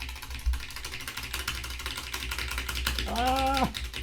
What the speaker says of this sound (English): tapping away on that keyboard